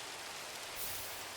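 Rain in a Minecraft world makes a soft, even hiss of falling drops, faint and steady throughout without any voices.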